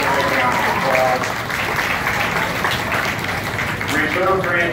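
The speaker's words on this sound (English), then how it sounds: "let's give them another big round of applause" Audience applause at a county fair goat show, a steady dense roar of clapping at close range with a voice speaking over it.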